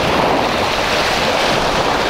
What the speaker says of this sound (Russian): Вон, смотрите, волны прям зеленые.